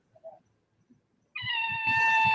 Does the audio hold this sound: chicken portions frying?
no